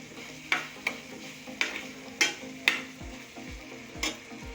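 Green beans stir-frying in a pan for spaghetti jollof, a soft steady sizzle broken by about seven sharp scraping stirs of a utensil, close and with no talk.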